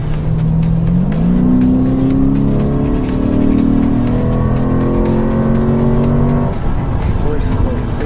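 A Lexus RC F engine in Sport Plus mode revs and climbs through the gears, its tone rising steadily for several seconds before backing off, loud and continuous from inside the car with talk underneath.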